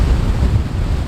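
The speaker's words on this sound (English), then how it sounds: "when we're looking at the rough waves and the rough seas" Rough ocean waves rolling onto the shore with heavy wind buffeting, a continuous loud broadband roar and surge with no speech.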